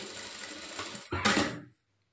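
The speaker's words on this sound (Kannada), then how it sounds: "ಸ್ಟಾರ್ಟಿಂಗು ಎಂಡಲ್ಲಿ ರಫ್ ಹೊಡೆದು 1/2 ಇಂಚ್ ಮಾರ್ಜಿನ್ಗೆ ಸ್ಟಿಚ್ ಮಾಡ್ಕೊಳ್ಬೇಕು" A sewing machine stitches a blouse shoulder seam at a half-inch margin in a short, close burst of rapid mechanical whirring. It swells briefly, then cuts off into silence.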